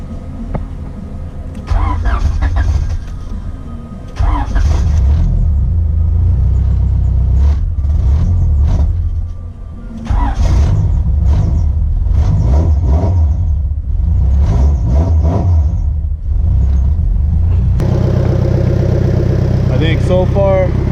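A turbocharged H2B engine in a Honda EG hatchback cranks and catches, then runs loud and rough with uneven revs and blips close by, while people talk over it.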